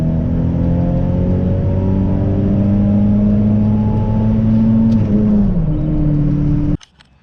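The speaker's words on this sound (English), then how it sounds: "We're gonna go ahead and turn onto the highway to do my full second gear pull" A turbocharged Honda R18 engine tuned on Hondata FlashPro pulls hard through second gear, a loud steady drone climbing in pitch, then cutting off abruptly at the shift.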